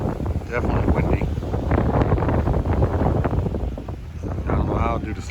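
Strong offshore ocean wind off San Diego buffets the microphone in a constant rumbling roar, with a voice faintly audible underneath.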